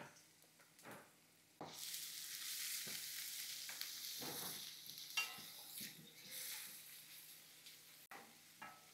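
Onion, garlic, green chili and mustard seeds sautéing in oil for a tangy leaf bhagra, a faint start and then a steady sizzle with occasional stirring clinks, quiet overall and without talk.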